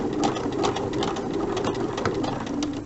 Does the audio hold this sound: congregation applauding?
no